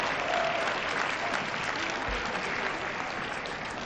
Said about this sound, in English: How about a big round of applause for all the Hall of Famers?